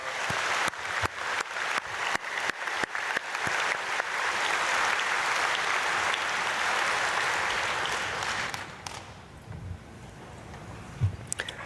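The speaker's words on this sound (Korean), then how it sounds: "우리 크게 박수로 축복하겠습니다." A church congregation applauds loudly at an early-morning prayer service, starting with distinct claps that swell into a dense, sustained roar of clapping, then fading to quiet room noise with a few stray sounds.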